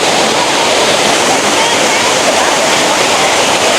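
Jari Falls waterfall in Chikkamagaluru roaring steadily, a dense, continuous rush of falling water that stays loud and unbroken throughout, with no clear voices above it.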